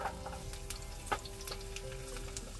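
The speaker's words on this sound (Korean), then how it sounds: "자, 이제 마늘 들어가겠습니다." Garlic fries in olive oil for gambas at a cold-weather military-style campsite, giving a steady, faint sizzle with small crackles, heard alone without talk.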